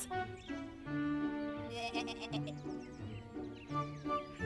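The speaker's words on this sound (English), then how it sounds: "Listen to the sound that the sheep makes." Cartoon sheep bleating in a children's animation, a few wavering bleats close up over a light background score, with no talking.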